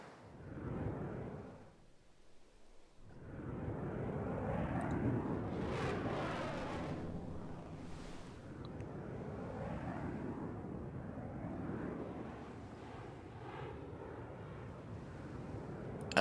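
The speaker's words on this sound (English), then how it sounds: "We do have a lot of stealth bombers here." Stealth bombers in Civilization IV sweep past with a low, rumbling jet roar that swells and fades in broad waves, faint and distant, with a brief lull near the start.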